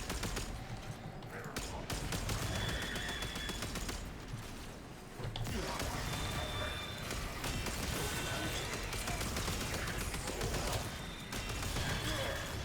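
Gunfire rattles almost nonstop in the video game Warframe, dense bursts of shots and impacts crackling throughout, with a voice speaking faintly underneath.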